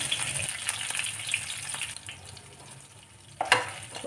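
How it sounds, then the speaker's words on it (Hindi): Cubes of paneer fry in a pan for chilli paneer, giving a faint, steady sizzle broken by occasional clinks and scrapes of stirring, with a louder scrape near the end. "बचे हुए पनीर को भी सेक लेते हैं।"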